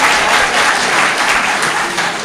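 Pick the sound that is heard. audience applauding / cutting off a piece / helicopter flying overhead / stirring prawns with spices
audience applauding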